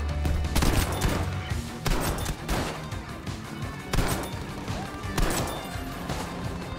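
Heavy shotgun blasts in the Battlefield 5 video game, four loud booming shots spaced about a second and a half apart, each with a sharp crack and rumbling tail amid battle noise.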